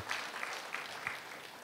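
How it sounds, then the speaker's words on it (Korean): Steady applause from a church congregation during a Sunday service, a continuous patter of clapping at moderate distance, fairly soft and even throughout. "우리 성도님들의 격려의 박수 부탁드리겠습니다"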